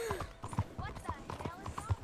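Horse hooves clip-clop in a steady rhythm during a Dune game, mixed with in-game voices talking over the top.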